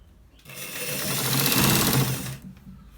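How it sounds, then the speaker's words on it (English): A sewing machine stitches a collar shirt in one steady, close whirring run of about two seconds that starts and stops abruptly. "We are stitching it to the very end."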